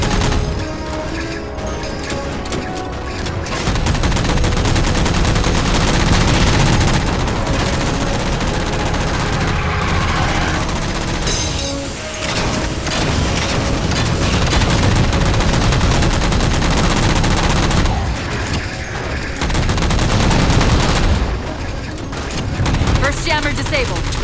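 Rapid gunfire in the video game Halo 4 while shooting down jammers, loud continuous bursts with brief pauses, overlaid with game sound effects and voices talking.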